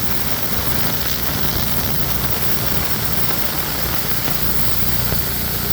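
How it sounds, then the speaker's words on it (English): A Crest OC6-1622-HE ultrasonic aqueous parts washer runs its ultrasonics, giving a steady, loud, unbroken hiss and hum with no pauses or voices. "You can hear the ultrasonics."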